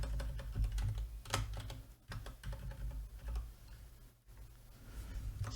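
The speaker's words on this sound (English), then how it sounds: "I do the same thing by just typing S." Rapid keystrokes on a computer keyboard while working in Git at the command line, a continuous run of close, crisp clicks with brief pauses between bursts.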